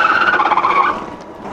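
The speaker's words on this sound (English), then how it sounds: "I love the tire screeching," The rear tire of a GhostCat F3X electric bike screeches loudly and close by for about a second, then tails off into a quieter scrape.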